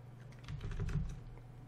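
Brief burst of soft key taps on a computer keyboard while entering a command, faint and close, with a low hum underneath.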